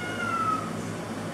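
A cat gives a single short, clear meow close by over a steady low indoor background hum, with no talking.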